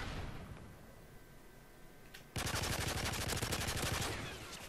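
Rapid automatic gunfire from a first-person shooter game, the shots pounding loud and continuous in a dense burst after a quieter stretch of background game noise.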